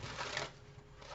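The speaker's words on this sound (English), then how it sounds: "Just giving the cards a little shuffle here." Tarot cards being shuffled by hand, a soft papery riffle and rustle at close range that swells briefly near the start and then settles into quieter sliding, with no voices.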